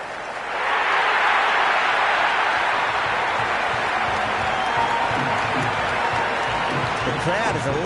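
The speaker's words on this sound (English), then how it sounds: "The crowd is electric right" A broad, sustained roar from a cricket stadium crowd at a T10 match between Jeddah Lions and Multan Sultans, swelling quickly and holding steady throughout, with commentary faintly beneath.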